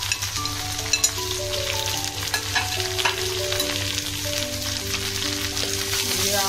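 Boiled peas, eggplant and ridge gourd being stirred in a hot pan, with a steady close sizzle and a few sharp spatula scrapes and clinks, without speech.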